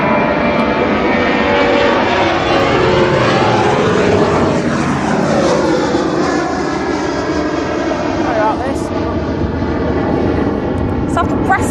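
A Ryanair airplane at East Midlands Airport roars loudly and steadily throughout, its engine pitch sweeping as it passes by, with people talking faintly underneath.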